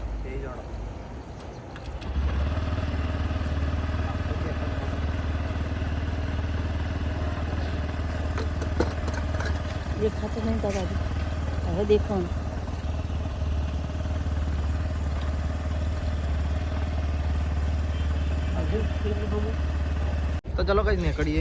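A Honda Activa scooter runs while carrying riders toward the market, a steady low engine drone that continues throughout beneath people talking.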